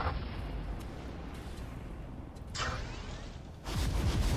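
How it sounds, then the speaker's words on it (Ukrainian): A tank launches a grenade in Tanki Online, with heavy artillery-like booms and a whooshing blast over rumbling battle noise, the last explosion arriving loud and close. "О, ще й гранату запустив."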